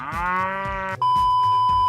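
A goat lets out a low, drawn-out bellow that sounds just like a cow's moo, followed by a sustained electronic beep tone, with no talking.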